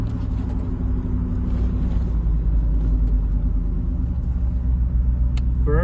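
Steady low rumbling drone of a Power Wheels ride-on vehicle fitted with a 4L60E transmission, running in second gear, loud and close with constant engine and drivetrain noise and a brief squeak near the end.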